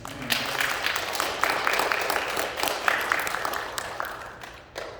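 A congregation at a Sunday worship service in Colorado Springs claps together in steady, dense applause that fills the room for about five seconds, then thins and tapers off, with one final clap near the end.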